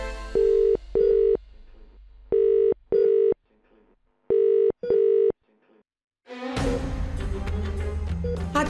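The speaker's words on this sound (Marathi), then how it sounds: "फोन उचलत नाही, हे बी फोन उचलत नाहीत" A telephone rings out unanswered, heard as three pairs of evenly spaced ring bursts with silent gaps, followed by a sudden burst of louder background sound.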